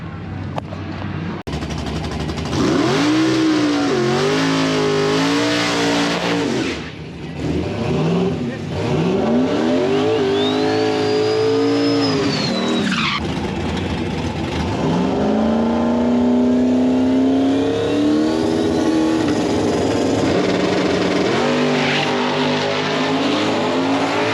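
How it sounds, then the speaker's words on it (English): Drag-racing car with a stock-bottom-end 4.8-litre LS engine roars through a full pass, revving hard and climbing through several gear changes, loud and sustained with a whining pitch sweep, and people are heard talking over it. "The first pass spun the tires pretty good, but hopefully this pass goes down."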